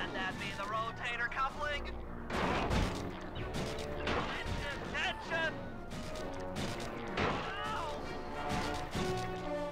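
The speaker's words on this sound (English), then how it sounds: "they're shooting at me a bunch" Enemy gunfire in Sly 2 comes as repeated sharp bangs and crashes scattered through a busy game soundtrack, with several louder bursts standing out over the music.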